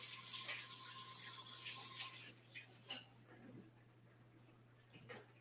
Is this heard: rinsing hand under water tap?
yes